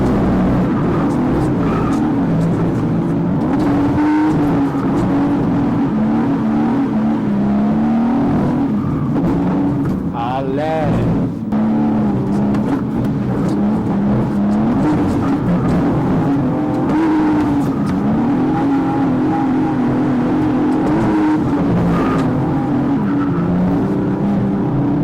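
A race car circles Circuit Zolder in Belgium, its engine note droning steadily and loud for the whole stretch, pitch rising and falling with shifts and corners, with no break in the noise.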